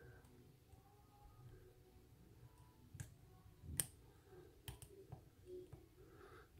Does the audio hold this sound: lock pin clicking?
yes